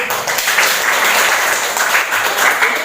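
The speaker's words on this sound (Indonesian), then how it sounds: "tepuk tangan dulu ya" Steady audience applause from a classroom of prospective teachers during a mentoring session in Pati, a dense wash of many hands clapping continuously and fairly close, with no talk over it.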